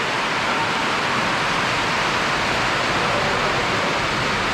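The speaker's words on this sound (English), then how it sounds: "Man, it's raining like hell." Heavy rain falls in a steady, loud, dense hiss that stays constant and unbroken, with no voices over it.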